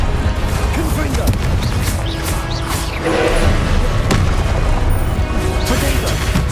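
Repeated Confringo fire-spell blasts in the Hogwarts Legacy video game, dense crashing booms and thuds layered over continuous battle noise and spell shouting, loud and close throughout.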